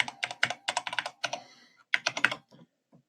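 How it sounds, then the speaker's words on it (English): Password being typed on a computer keyboard at a login screen: quick bursts of close, crisp key clicks with a short pause midway, then a final tap. "So I'm going to click my name, enter a password,"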